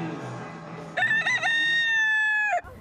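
A Key West rooster crows close by, one loud, drawn-out cock-a-doodle-doo that rises from a rough start, holds steady and then cuts off.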